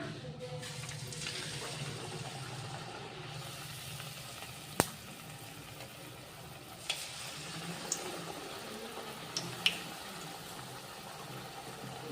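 Corn vada (jowar vada) batter frying in hot oil makes a continuous crackling sizzle lasting several seconds, punctuated by a few sharp pops and spatters, with no voices.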